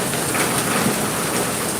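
Heavy monsoon rain pours steadily over a goat farm, a dense, even hiss with no pauses and no voices.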